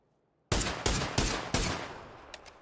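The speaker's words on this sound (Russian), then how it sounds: "Я просто пострелял, чтобы вспомнить, как оно вообще здесь стреляется" Gunfire in the video game PUBG: four loud, sharp shots in quick succession with a clear echoing tail, followed by fainter distant pops, with no talking.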